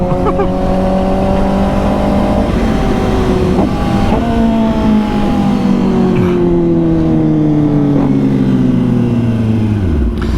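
A 1000cc sport bike engine drones loudly and steadily while being ridden through Atlanta, its pitch climbing and dropping through gear changes, with wind rush throughout.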